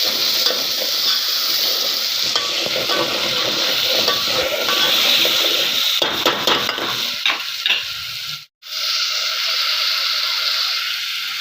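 Tomato paste sizzles and fries in a pan for a Marathi jackfruit seed curry, with loud continuous frying and scraping stir strokes, a few clinks near the end, then a brief drop to near silence before the sizzle resumes.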